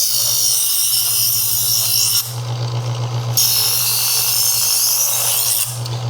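An inexpensive kitchen knife grinds on a sharpener's second stage, making loud, continuous rasping strokes close by, broken by a brief pause partway through and another near the end, with no talking.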